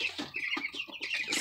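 Broiler chickens about two weeks old cluck and chirp in quick, overlapping bursts, close by and fairly loud on a Jamaican backyard farm.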